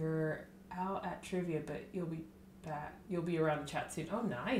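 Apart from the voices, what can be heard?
No everyday noises stand out.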